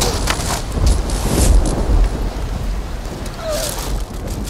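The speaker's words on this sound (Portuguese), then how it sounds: "Ui, quanto raio, quanto trovão." Heavy rainstorm with thunder, a steady roar of pouring rain broken by deep low rumbles and a couple of sharper cracks, loud and close throughout.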